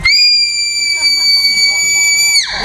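A person gives a practice scream during a safety drill before an audience: a loud, shrill, sustained, tightly pitched shriek held steadily for over two seconds before cutting off abruptly.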